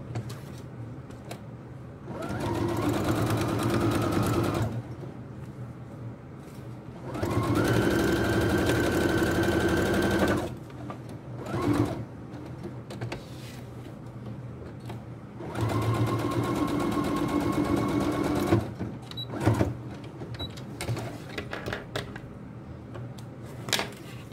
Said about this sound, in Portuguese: Agora nós vamos passar aquela costurinha de segurança aqui que eu falei para vocês